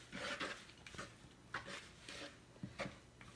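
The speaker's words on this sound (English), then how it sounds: "I'm going to start stirring this up" A spoon stirs Southern beat biscuit dough as milk is mixed in. Soft, rhythmic scraping and sloshing strokes against the bowl repeat about every half second, quiet and close.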